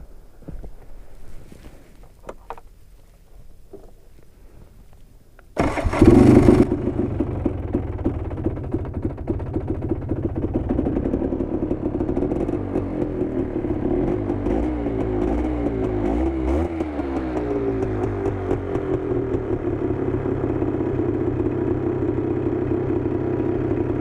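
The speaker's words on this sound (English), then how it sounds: "we're gonna give it a good old cold start" A Polaris Scrambler 400 ATV cold-starts outdoors on a freezing 8-degree morning, first a few clicks and quiet cranking, then the engine catches with a loud burst and settles into a steady, rough, rumbling idle up close.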